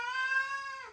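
A pet rescue cat gives a single drawn-out meow, clear and close, holding a steady tone before trailing off at the end, with no talk over it.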